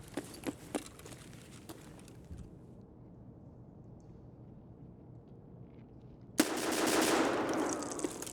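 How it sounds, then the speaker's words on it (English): Video game gunfire crackles in sharp distant shots early on, then quiet, before a loud close burst of rapid automatic fire erupts near the end. "He's shooting at it."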